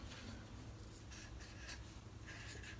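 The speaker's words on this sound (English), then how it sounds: "All right, so now I'm gonna write over here" A marker writes a word on a board during a children's heavy-versus-light experiment. It makes a steady, close scratchy squeak that runs without a break for the whole stretch, with no talking.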